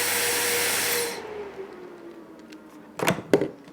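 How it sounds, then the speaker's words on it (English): A hair dryer powered by a Zendure portable power station roars loudly, then abruptly powers down and fades, followed by a couple of sharp clicks. "tried to use the lowest setting on the hairdryer"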